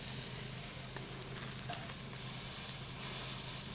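Steak just flipped on a Nomad grill, hissing in a steady, close sizzle with a few small pops and crackles of fat, continuous and fairly loud, no talk.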